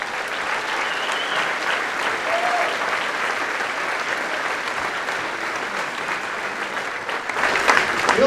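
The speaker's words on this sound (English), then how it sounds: "Give them a round of applause." Steady audience applause fills a college general assembly hall, dense and sustained for several seconds before swelling slightly at the end.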